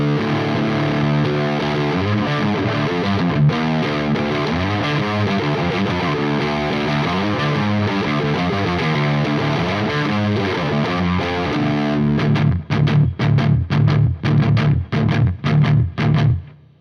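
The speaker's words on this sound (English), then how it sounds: "Now it's starting to get like a distortion." An electric guitar played through a Havok Elektronix FO-2 FET Overdrive pedal at high gain, sustained distorted chords ringing, then ending in a series of sharp, chopped stabs.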